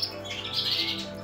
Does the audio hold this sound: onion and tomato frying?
no